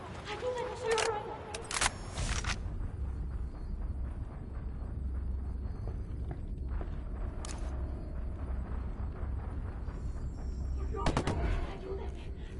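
Gunfire in the video game Ghost Recon Wildlands, a few sharp rapid bursts of shots near the start and again near the end over a steady low rumble, with voices talking in between.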